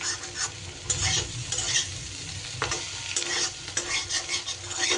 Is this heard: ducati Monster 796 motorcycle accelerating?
no